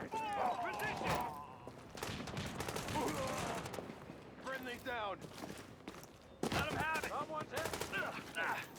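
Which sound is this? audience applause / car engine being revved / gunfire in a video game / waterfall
gunfire in a video game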